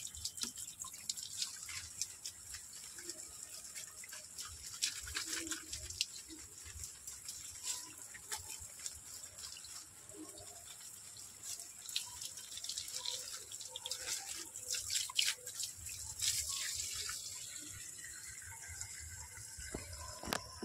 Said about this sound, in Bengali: আর এরকমই জল দিয়ে দিচ্ছি